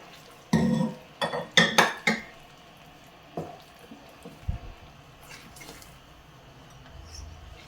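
Metal spoon stirring jackfruit payasam with sago in a pot, giving a few loud clinks and scrapes against the pot early, then fading to softer, sparse taps and quiet stirring.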